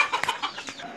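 Brooding hens on a farm cluck close by, giving several short, bright clucks in quick succession followed by softer murmuring, with no talking.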